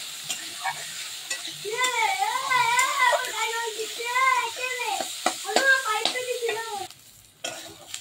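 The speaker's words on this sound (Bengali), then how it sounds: "তো এটাকে ভালো করে একটু ভেজে নিচ্ছি।" Green chilies fry in a pan with garlic, ginger and cashews, giving a soft, steady sizzle under a voice that talks over much of it.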